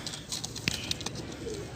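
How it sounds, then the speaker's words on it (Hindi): A brief coo from a Shalkoti capped pigeon, also called a French pigeon, amid soft chirps and faint background noise at a bird market, quiet and close. "शालकोटी टोपी वाला कबूतर है, जिसे फ्रांसीसी कबूतर बोलते हैं जिसको।"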